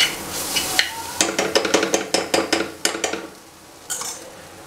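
Potatoes being stirred and coated with turmeric and cumin in a pan for aloo dum, with a run of clinking spoon-on-pan scrapes and taps, close and fairly loud, then a pause and one last scrape.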